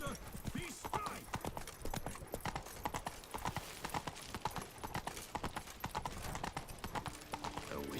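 Roach, Geralt's horse in Witcher 3, trots with a steady run of hoof clip-clops heard under game dialogue and voices, with a brief whinny possible amid the clatter.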